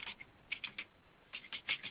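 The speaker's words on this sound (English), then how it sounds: "You must be typing your note, right?" Light clatter of someone typing on a computer keyboard during a conference call, a few short bursts of key taps with gaps between, faint and close to an open microphone.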